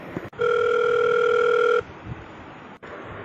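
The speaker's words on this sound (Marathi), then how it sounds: "सबस्टेशनचा फोन पण एंगेज येतोय" A telephone engaged tone sounds once, a steady electronic beep held for over a second, against a quiet background.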